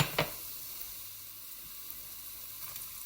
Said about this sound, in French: Dans une cocotte avec de l'huile chaude, donc la moitié de l'huile d'olive, on va verser les oignons